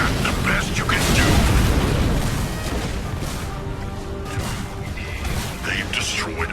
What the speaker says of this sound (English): They've destroyed our building.